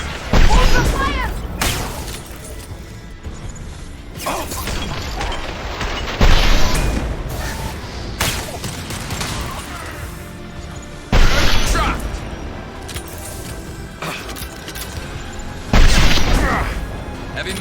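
Mass Effect 2 combat: heavy booms and explosions burst out every few seconds amid constant mechanical crackle and gunfire, with game characters calling out over the action.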